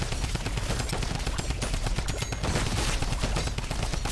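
Rapid automatic gunfire from a drum gun in a horde rush video game mode, a dense continuous burst of loud shots with no pauses.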